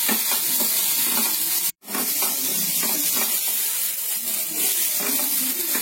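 Ginger onion paste fries in a pan, giving a steady, close sizzling hiss that cuts out for a moment partway through.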